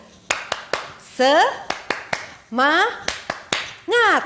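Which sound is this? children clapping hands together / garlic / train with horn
children clapping hands together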